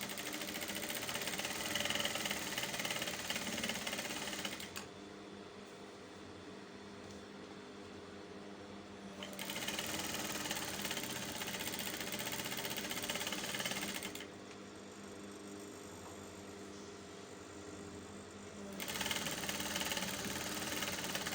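A sewing machine stitches African print fabric for a bonnet in bursts of steady whirring, about four seconds each, broken by quieter pauses, close and moderately loud with no voices.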